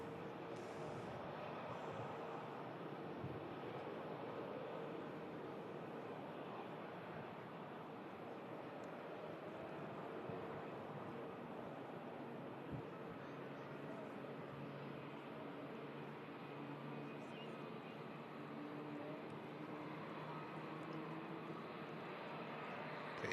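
A British Airways airliner taxiing out at Manchester Airport gives off a faint, steady distant jet engine rumble and whine, continuous and unchanging across the whole stretch, with no voices.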